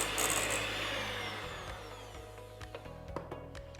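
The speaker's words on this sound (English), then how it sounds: "so it takes about two to 3 minutes when you're using the electric mixer" Electric hand mixer whirring steadily while beating margarine and sugar, moderately loud and up close, winding down partway through and followed by a few scattered knocks and clicks.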